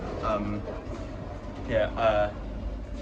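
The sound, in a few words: XPT passenger train moving off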